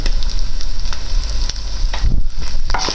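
Spices frying for an aloo keema: turmeric powder, chilli and salt crackle and sizzle loudly in a hot pan, with a continuous hiss broken by a few scraping stirs.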